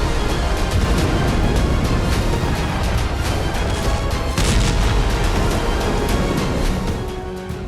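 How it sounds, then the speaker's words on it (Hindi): Continuous loud, rumbling barrage of gunfire and booming blasts during a naval drone attack on a Russian ship in the Black Sea, dense and unbroken throughout. "यूक्रेन का पहला यूएसवी धमाका हुआ और उसके बाद रूस ने यूएसवी पर फायरिंग शुरू कर दी।"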